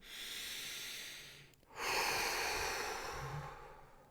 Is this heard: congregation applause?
no